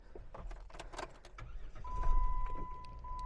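A 2009 Jeep Wrangler Rubicon engine with a six-speed manual cranks and catches, settling into a low idle with a steady tone, after a few short clicks and clunks from inside the cabin.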